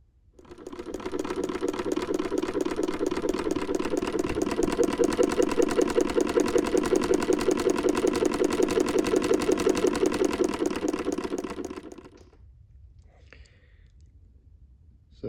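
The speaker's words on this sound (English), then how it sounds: "It's quite unusual in the sewing machine world. And it's the oldest machine I've ever worked on." An 1869 Wheeler & Wilson No8 sewing machine runs close up for about eleven seconds, a fast even mechanical chatter that builds, holds steady, then stops abruptly, leaving quiet.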